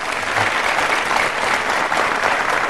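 Studio audience on the Telugu quiz show Meelo Evaru Koteeswarudu bursts into loud, sustained applause, a continuous close wash of clapping with no break.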